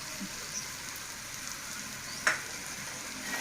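A curry of broad bean seeds with fenugreek leaves fries in a pan as salt and chili powder are stirred in, giving a soft steady sizzle with one brief scrape of a spoon.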